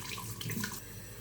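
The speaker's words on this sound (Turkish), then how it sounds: "Soğuk suyla bir yüzümüzü yıkayalım." Cold tap water runs steadily into a sink as a face is rinsed after a wet shave, a soft continuous splash with small changes in the flow and no talking.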